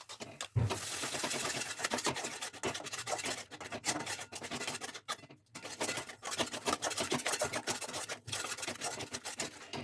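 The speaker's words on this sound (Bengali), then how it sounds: "এই দইটা আমি ফেটিয়ে দিয়ে দেবো।" Yogurt whisked in a bowl while making paneer kasha, a continuous scraping, rubbing texture of utensil against the bowl that runs steadily and close up, with one brief pause midway.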